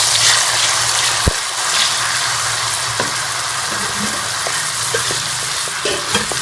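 Tomatoes going into a hot pan for Kashmiri dum aloo gravy, a steady loud sizzle and frying hiss with occasional stirring clicks and scrapes, no talking.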